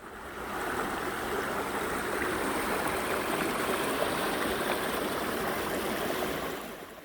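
A mountain valley stream in spring, running strong along a broad rocky gorge on a cliffside trekking route, produces a steady, close rushing wash of water that fades in and out at the ends, with no voices.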